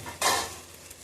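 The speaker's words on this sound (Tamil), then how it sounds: "இப்போ வந்து உங்களுக்கு நெய் ஊற்றிக்கலாம்" Ghee poured into a hot pan for mushroom biryani bursts into a loud sizzle that flares suddenly, then settles into a steady, softer frying hiss.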